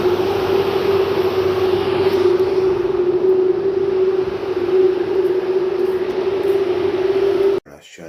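Steady rumble of a train interior at a railway station in Liège, with a continuous low drone and broadband hiss holding for about seven seconds before cutting off abruptly, followed by brief quieter noise.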